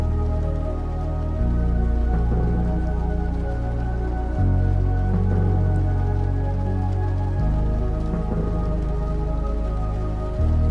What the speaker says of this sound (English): when you get into this location, it triggers rain to start falling in the game.